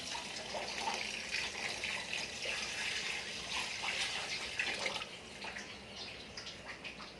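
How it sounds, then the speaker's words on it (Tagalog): Water pours and splashes steadily into a cooking pot for boiled pork soup, easing to a quieter trickle toward the end. "Lagyan natin ng tubig"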